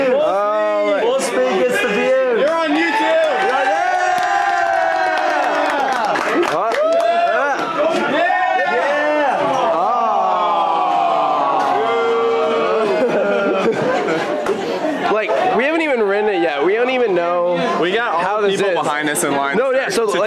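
A crowd of people waiting in line for an alpine coaster cheer and shout loudly and continuously for a rider going full speed, excited voices overlapping throughout.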